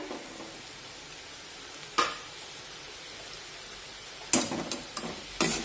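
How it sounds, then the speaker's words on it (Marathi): Chopped tomato going into onion and ginger-garlic paste frying in a pan: a soft steady sizzle, punctuated by a few sharp clatters and scrapes as the pieces drop in and get stirred, close by. "आता यामध्ये एक टोमॅटो कट केलेले टाकूया"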